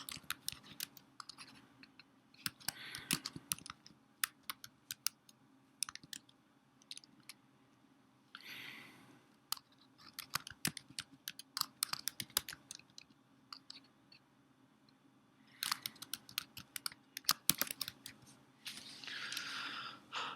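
Keys clatter on a computer keyboard in quick irregular bursts, close and fairly quiet, with short pauses between runs and no talk.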